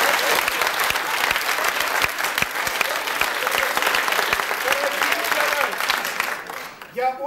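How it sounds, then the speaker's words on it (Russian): A theater audience applauds an arriving actor during a comic stage sketch about drama school entrance exams; dense, steady applause fills the room, with voices murmuring underneath before it fades at the end. "Очень рад, что вы встречаете меня аплодисментами."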